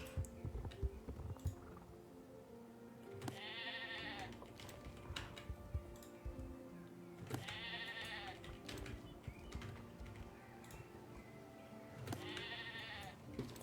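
Sheep bleating during wool shearing in the video game Star Stable, three separate bleats spaced several seconds apart over a busy background of game sounds and tapping clicks, with no talk.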